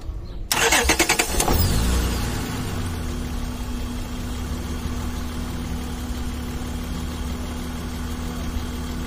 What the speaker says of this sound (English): I'm gonna start the engine and then press